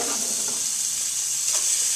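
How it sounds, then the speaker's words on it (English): Steady, crackling sizzle of bacon frying in a hot pan, a continuous hiss with small pops, close and fairly loud, no voices. "You hear that nice sizzle already"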